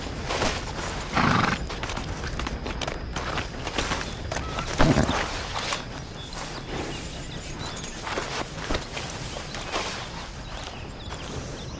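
Silver dapple pinto Missouri Foxtrotter horse in the Red Dead Redemption 2 game, whinnying in a couple of short bursts while hooves clip-clop steadily beneath a busy outdoor ambience, close and fairly loud.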